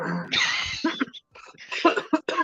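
A couple of harsh coughs up close, followed by a few throaty bursts and brief breaths.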